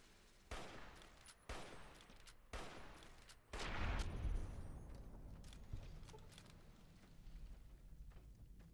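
Sniper rifle fire from the game Fallout New Vegas: four sharp, loud shots about a second apart, the last followed by a heavier, rumbling boom and lingering echo.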